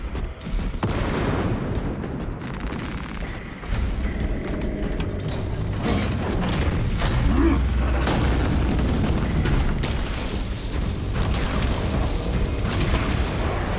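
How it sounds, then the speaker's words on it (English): A frag grenade detonates in Warhammer 40000: Space Marine 2, a loud booming blast amid dense game combat noise with mechanical clatter and gunfire, sustained and heavy throughout with no speech. "Throwing frag grenade!"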